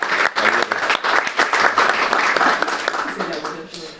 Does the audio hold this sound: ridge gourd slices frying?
no